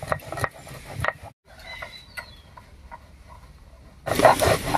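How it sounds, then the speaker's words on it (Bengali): A few black peppercorns are ground by hand in brief, irregular scraping and crunching bursts, faint in the middle and turning louder and rougher toward the end. "আর এই ফাঁকে আমি কয়েকটা গোলমরিচ বেটে নিচ্ছি।"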